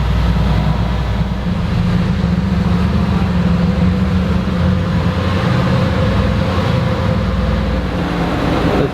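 A Mercedes-AMG sports car engine with its exhaust open rumbles deeply and steadily throughout, loud and close, with a low growling exhaust tone and no talking.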